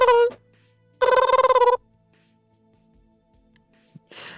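Phone ringtone sounding loud and close in short melodic bursts separated by quiet gaps, with a faint brief voice at the end.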